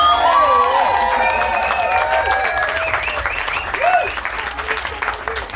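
Crowd applause and cheering at a talk on revolution, a dense wash of clapping with overlapping whoops and shouted voices that rises early and slowly thins toward the end.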